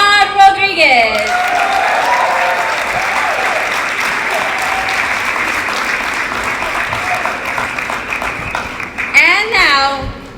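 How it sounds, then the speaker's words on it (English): An audience gives sustained applause at a ceremony as a person is introduced, loud, dense clapping lasting several seconds, with an announcer's voice at the start and the end. "Keep that applause going for Mr. Omar Rodriguez."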